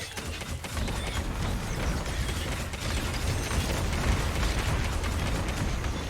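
Grenade-launcher-style explosions in the game Wolcen: a steady, dense roar of blasts, bursts and mechanical rattling that runs continuously at constant loudness.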